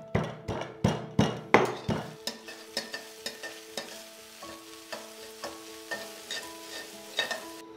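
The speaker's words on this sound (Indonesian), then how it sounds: "ini bawang putih, kemiri, dan daun bawang. Ini aku tumis dia sampai halus ya" Garlic, candlenut and spring onion being sautéed in a pan until soft: a quick run of sharp spatula knocks against the pan, then slower scattered taps over a faint sizzle and a steady hum.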